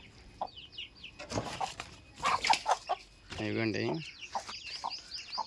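A mother hen clucks close by among her chicks, whose high thin peeps flutter in and out, while a person speaks briefly over them.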